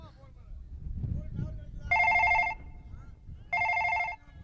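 A telephone rings in two separate bursts of bright bell tone, loud and close, with a low murmur of background voices before and between the rings.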